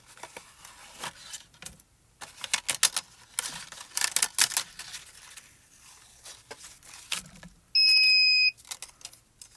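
A Gemini Jr foil press timer beeps during warm-up, one loud steady tone lasting under a second, heard alone after a stretch of rustling and tapping around a crafting table.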